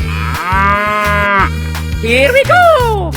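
A cow gives a long, steady moo in a 3D animal video game, followed by a shorter, wavering call, both close and clear over a looping, cheerful game music track.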